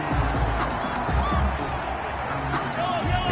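A stadium crowd cheers in a football video game, a steady wash of distant roaring noise under continuous commentary.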